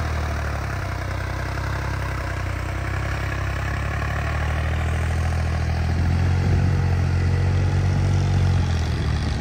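A John Deere 5105 tractor engine with a turbo power upgrade runs steadily at a low, rumbling idle with a clattering texture, loud and continuous throughout with no voices.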